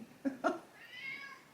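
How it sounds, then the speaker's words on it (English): A cat meows twice in quick succession, loud and close, followed by a softer, drawn-out trailing cry, with no talking. "my cat just scared the crap out of me."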